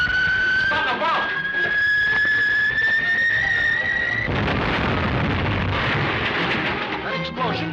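A bomb blast goes off in an old serial adventure scene: a loud, rumbling boom bursts in about halfway, following a rising whistle-like whine, then rolls on in a heavy roar.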